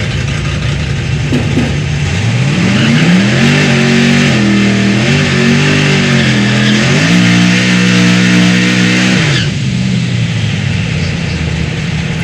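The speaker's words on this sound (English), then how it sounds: "the car went straight to burnout" A loud Firebird drag race car engine revs hard and holds high with shifting pitch, tires roaring in a burnout, then drops back to a rumbling idle.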